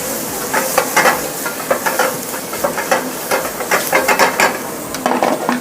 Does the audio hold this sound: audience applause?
no